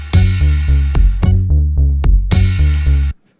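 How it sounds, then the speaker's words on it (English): A looping electronic drum pattern from a Teenage Engineering OP-Z perc plug, slowed down by a parameter tweak, with steady repeated low thumps and bright sharp accents, loud and close, stopping abruptly at the end. "I'm going to turn it counterclockwise to slow it down."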